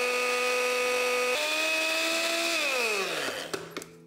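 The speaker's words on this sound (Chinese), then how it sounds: "先用搅拌器碾细" Electric blender grinding almond flour finer, a loud steady motor whine that rises in pitch, then winds down and stops, ending in a few clunks.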